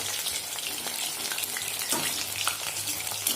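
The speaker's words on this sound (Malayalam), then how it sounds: "ഇതേപോലെ തന്നെ നമ്മളെല്ലാ ചിക്കൻ പീസസും ഫ്രൈ ചെയ്തെടുക്കണം." Chicken pieces deep frying in hot oil for chilli chicken, a steady close crackling sizzle with faint scattered pops, no talking.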